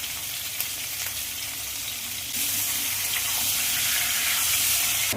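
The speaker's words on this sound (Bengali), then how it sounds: "ওই তেলের মধ্যে আমি আলুগুলো একটু ভেজে নেব" Potatoes frying in hot oil with turmeric and salt, a steady sizzle growing louder and denser partway through, with no voices.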